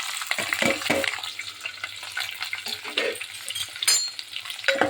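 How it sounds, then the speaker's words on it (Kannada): Mustard seeds crackle and spit in hot oil while onions, green chillies and curry leaves go into the pan for hotel-style upma, giving a steady close sizzle with sharp pops and a few stirring clatters. "ಇವಾಗ ಸಾಸಿವೆ ಚಡಪಡ ಅಂತ ಹೇಳ್ತಾ ಇದೆ, ಅದಕ್ಕೇ ನಾನು ಇದನ್ನೆಲ್ಲ ಹಾಕ್ತೀನಿ"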